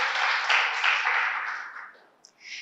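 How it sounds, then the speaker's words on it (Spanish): A church congregation applauds steadily, a dense wash of clapping that fades toward the end before a brief renewed burst. "démosle un fuerte aplauso al Señor por esos valores"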